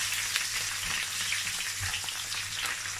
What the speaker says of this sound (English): And I'm going to fry it till it turns golden brown.